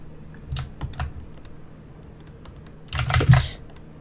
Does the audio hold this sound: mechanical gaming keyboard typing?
yes